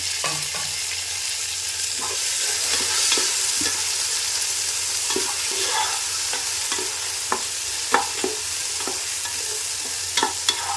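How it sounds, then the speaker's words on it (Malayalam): Mutton roast frying in a pan with chopped tomato added, a steady close sizzle running throughout with occasional scraping stir clicks and light utensil taps; no talking. "ഇതിനോടൊപ്പം തന്നെ നമുക്ക് ഒരു തക്കാളി അരിഞ്ഞതും കൂടി ചേർക്കാം"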